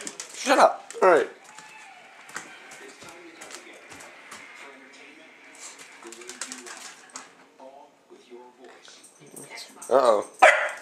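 Dog barking indoors, a few sharp close barks at the start and again near the end, with quieter whines and a person talking in between.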